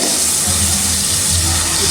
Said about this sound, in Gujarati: તો બળે નહીં ના માટે થોડુંક પાણી નાખી દઈએ.